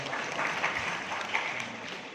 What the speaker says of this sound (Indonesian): Tepuk tangan yang meriah juga untuk para jamaah semua yang luar biasa.